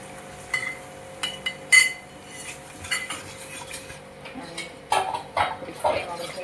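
A spoon stirs and scrapes through a jaggery mixture in a metal cooking pot, giving irregular clinks and scrapes that come in bursts, with a faint background hum between them.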